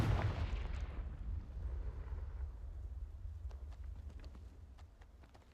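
The Confringo blasting spell goes off in a video game with a single deep boom that rolls into a fading low rumble, followed by faint scattered ticks.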